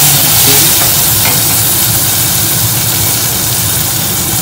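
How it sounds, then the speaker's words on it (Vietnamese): Tomatoes being stirred in a hot pan with fish sauce to come, a loud continuous sizzle and frying hiss with scraping stir strokes, alongside a steady low engine-like hum throughout, no voices. "Giờ mình sẽ trộn đều cho cà chua nó chín."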